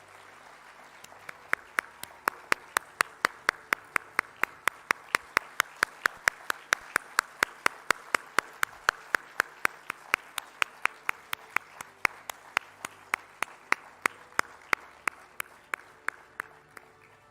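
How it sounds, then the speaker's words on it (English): Sparse, evenly spaced hand claps ring out across a hockey trophy unveiling at a launch ceremony, a slow steady rhythm of distinct claps lasting the whole stretch with no talk over them. "Let the applause keep coming."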